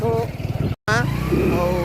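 Motorcycles ride along a road, their engine drone running steadily under nearby talking, broken by a brief gap before the engine noise and voices resume.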